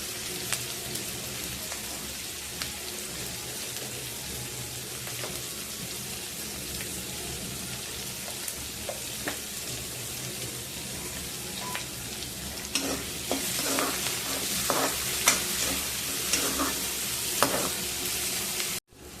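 Onions sautéed in a pan with a pinch of salt sizzle continuously, the hiss swelling louder toward the end with sharp scraping stirs and spoon clicks; no voices.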